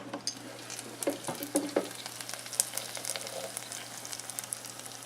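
Chicken wings cooking in an air fryer give off a soft, continuous sizzle with scattered crackles and pops over a low steady hum, fairly faint and close, with no talking.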